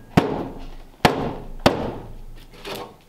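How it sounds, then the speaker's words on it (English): Three sharp metallic bangs, then a softer fourth knock, ring out as a firewall is hammered into place on a 1938 Ford Convertible. The hits are loud and close, spaced roughly half a second apart. "All right, see if we can bang the center in."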